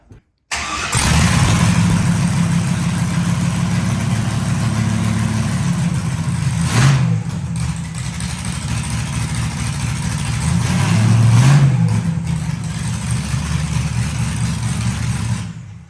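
A car engine runs steadily throughout, put in reverse to test a replaced transmission, with two brief rises in revs around the middle and later, the engine staying close and loud with no talk.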